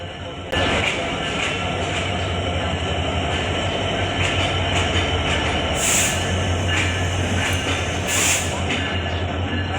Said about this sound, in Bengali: তো এরই মাঝে ট্রেন চলে এসেছে এই যে দেখুন